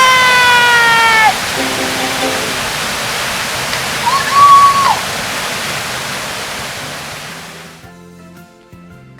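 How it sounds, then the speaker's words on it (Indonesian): A mini waterfall at Curug Ciputrawangi, within Gunung Tampomas nature park, roars as a steady broadband rush of falling water, loud and close, with faint tonal sounds over it before fading near the end. "di sini air terjunnya itu ada air terjun utama, tapi jadi itu ada di air terjun mini yang ukurannya sebesar teras rumah."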